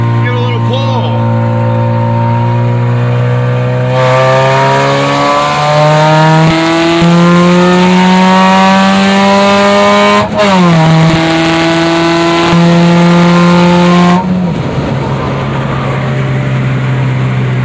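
A 2001 Hyundai Tiburon engine, rebuilt from a seized motor with a spare head, idles loudly and is revved in rising and falling sweeps, with a sharp blip partway through, close to the microphone.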